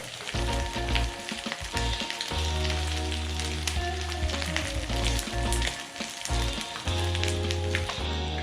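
Goat lungs sizzle and fry steadily in a hot pan over low heat, with crackling pops and a low hum underneath, close and continuous.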